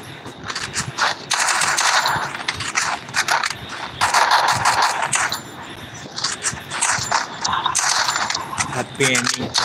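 Gunfire in the battle royale video game Free Fire, with dense rapid automatic bursts and mechanical clatter running almost without a break, and a voice heard at times beneath them.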